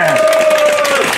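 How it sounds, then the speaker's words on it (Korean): Crowd at a Korean rally applauding steadily under a faint sustained tone and murmuring voices, a dense, even patter throughout a brief moment. "우리가 한번 힘차게 박수 한번 해주시기 바랍니다"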